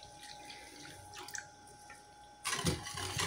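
Warm milk poured into a bread dough mixture of sugar and yeast, a short liquid splash and trickle that starts suddenly near the end after quiet kitchen clatter.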